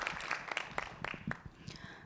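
A handful of people clap at a YouthConnekt 2024 gathering on African youth-led production, giving sparse, distinct hand claps at an uneven rhythm, fairly faint and close, with a voice briefly heard among them.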